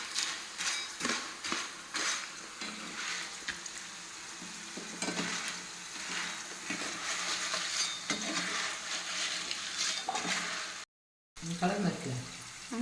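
Jackfruit chips frying in hot oil in a Kerala village kitchen, a dense crackling sizzle with intermittent stirring and scraping, steady throughout with a brief gap near the end.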